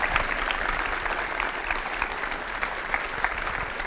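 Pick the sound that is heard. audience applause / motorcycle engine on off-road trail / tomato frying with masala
audience applause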